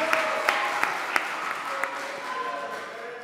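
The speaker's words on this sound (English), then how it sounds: "let's get some applause." Concert audience applause at a winter concert, a steady wash of clapping with a few sharp close claps, under some cheering and voices, gradually easing off.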